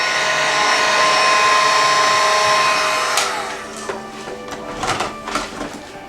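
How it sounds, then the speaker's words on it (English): A heat gun blows a steady, loud whir for about three seconds while drying homemade transfers on wooden farm blocks, then cuts off, leaving faint handling clatter and light taps. "it takes hardly no time for your transfers to dry with a heat"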